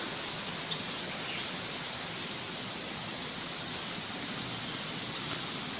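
Spring water gushes out from the base of a mountain, a loud, steady broadband rush of flowing water with no pauses, close by and constant, with faint bird chirps behind it.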